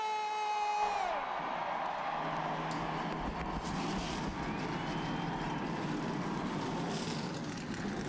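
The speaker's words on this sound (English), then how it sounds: "Gentlemen, start your engine!" NASCAR stock car engines starting up together at a night race, a dense roaring rumble swelling over a fading crowd and horn tone, continuous and loud throughout.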